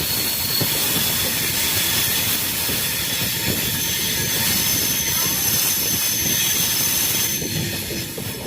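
A train rolls slowly into Jaipur Junction station, a close, continuous rumble of railcars with wheel squeal and clatter that stays loud throughout, with no voices over it.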